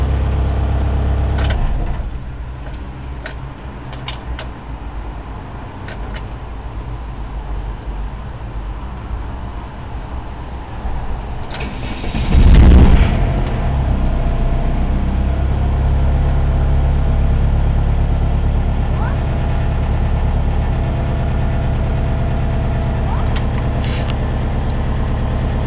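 A VW 1.9 diesel (1Y) engine with a running problem cranks and starts, then settles into a steady low, rough idle close by, with a brief revving surge partway through and no talking.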